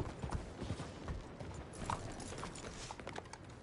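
A horse's hooves clip-clopping at close range, irregular knocking steps mixed with some creaking, mechanical clatter; fairly faint overall with no talk.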